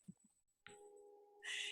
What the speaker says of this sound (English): the chimes are going right outside my door